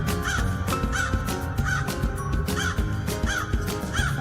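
A crow caws repeatedly in a steady rhythm, about one call every two-thirds of a second, over a dense layer of music.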